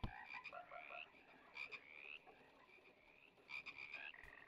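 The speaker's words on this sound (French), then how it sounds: "Il y a des bruits de grenouilles partout, en tout cas." Frog croaks in the horror game HOUSE: repeated rising, chirpy calls in short bursts, layered over a quiet ambient background with no talking.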